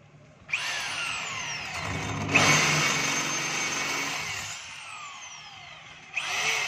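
A DeWalt D25032 rotary hammer bores into steel, with a loud, close whine that starts, digs in with a grinding shift, runs steadily for several seconds, stops, then starts again.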